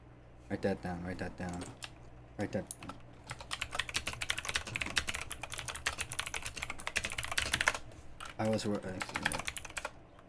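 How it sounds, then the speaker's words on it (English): Rapid typing on a computer keyboard, dense bursts of clicking keystrokes in quick runs with short pauses between them, fairly close and moderately loud over faint background speech. "I'm a fast typer. You'll hear it in my audio."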